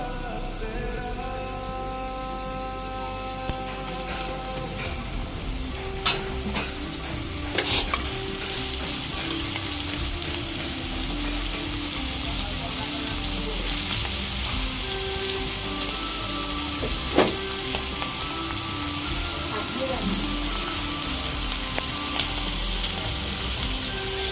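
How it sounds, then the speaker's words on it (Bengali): Sliced okra (bhindi) chips fry in hot oil in a wok, giving a continuous, even sizzle close to the listener. Occasional stirring clinks stand out now and then, and no one speaks. "এখন আমরা কড়াই বসিয়ে নিয়েছি দিয়ে দিচ্ছি পরিমাণ মতো তেল তেল গরম হয়ে গিয়েছে এখন আমরা ভেন্ডিগুলো দিয়ে দিব"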